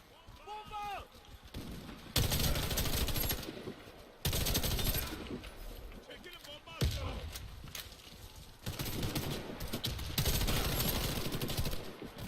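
Heavy gunfire in the online shooter Warface comes in loud automatic bursts separated by short pauses, close and sharp, with someone talking over parts of it.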